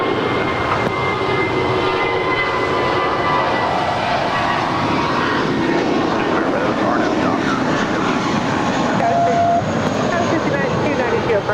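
An aircraft takes off at Los Angeles LAX airport, its engine roar dense and continuous throughout, with faint radio chatter mixed in beneath it.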